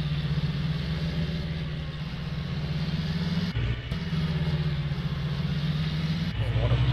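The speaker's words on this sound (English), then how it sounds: "Why you have to pull it with this big frame tractor." A big frame tractor's engine in the Farming Simulator video game drones steadily and loudly while pulling a heavy 3-point mounted planting rig, a constant low rumble with brief dips, under someone talking.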